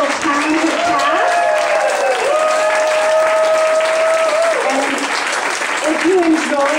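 An improv theater audience applauds the cast in a loud, sustained burst of clapping with cheering, while a voice talks and sustained tones run over the crowd throughout.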